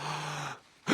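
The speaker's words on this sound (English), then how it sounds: "Oh, I don't like the sound of that breathing." A cartoon monkey takes a long, deep breath during a stethoscope check: a drawn-out airy inhale, a short pause, then the start of a louder breath out.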